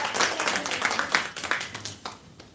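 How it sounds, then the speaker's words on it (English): An audience at a morning tea event applauds, a brief burst of clapping that fades out over a couple of seconds. "Give a big round of applause for her"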